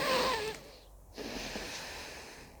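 A voice imitates noisy, forced yogic breathing with a harsh rushing exhale, then a short pause and a softer, breathy inhale.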